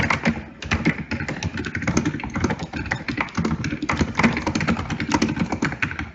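Rapid typing on a computer keyboard, a dense run of close, crisp key taps and thumps that carries on steadily throughout with no talking over it.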